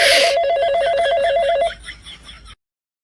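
A telephone rings while someone calls a doctor in a Gujarati comedy sketch: a rapid warbling ring tone, loud and close, that repeats for over a second and then fades into a few softer trailing tones.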